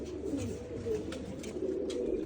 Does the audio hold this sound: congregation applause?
no